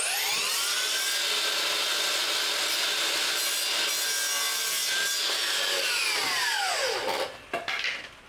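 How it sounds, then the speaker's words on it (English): A miter saw set to 45 degrees cuts both mitre angles in wooden architrave trim. Its loud, steady, whining cut runs for about seven seconds, then the blade spins down and a few clunks follow. "So I've got the miter saw set at 45, I'm going to line it up with that mark and easily just cut both of the angles"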